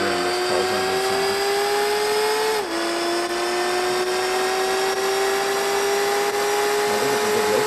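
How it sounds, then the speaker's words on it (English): A rotary car engine in Gran Turismo 4 holds a loud, steady buzzing whine, with a brief drop in pitch partway through before it settles into an even, sustained tone. "I do get a hint of rotary in this car's engine sound."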